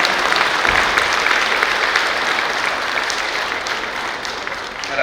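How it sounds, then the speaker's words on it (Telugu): Loud, sustained applause from a seated audience welcoming a governor at a health organisation's gathering, a dense steady roar of clapping that holds for several seconds before easing slightly. "మనమందరం సభ్యుల తరఫున గట్టిగా చప్పట్లు కొడుతూ ఒకసారి స్వాగతిస్తాం"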